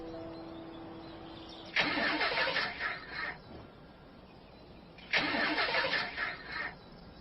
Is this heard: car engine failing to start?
yes